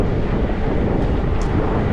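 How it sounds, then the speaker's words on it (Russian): Heavy wind buffeting the microphone while riding an electric bike on a road trip through Abkhazia in November, a loud continuous rumbling rush. "Ты смотри, ветер, падла"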